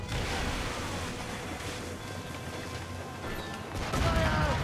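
Enemy ship cannons boom in a naval battle in Assassin's Creed Rogue, a dense, continuous barrage of overlapping blasts that swells louder near the end, with shouted crew voices mixed in.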